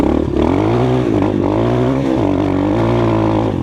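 A Skybike CRDX 250 motorcycle runs loud and close while being ridden through Chernihiv city streets, its engine droning steadily with small dips and rises in revs and no talk.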